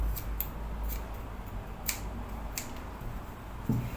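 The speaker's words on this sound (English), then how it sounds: "so we are going to trim off all the excess" Scissors snipping excess fabric from kaftan piping, a few light close cuts scattered over a quiet room hum.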